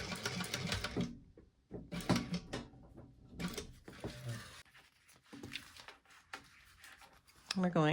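A sewing machine stitches handbag pieces together with a seam allowance, backstitching at the start and end, in short runs of rapid needle chatter broken by pauses, with a voice talking over parts of it.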